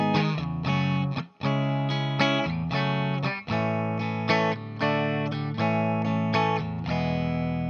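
Distorted electric guitar strumming sustained chords through the first four bars of a song's verse, played alone with rhythmic chord changes and brief dips between strums.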